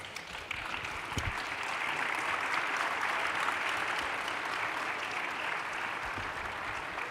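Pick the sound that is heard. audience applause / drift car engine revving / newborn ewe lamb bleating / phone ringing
audience applause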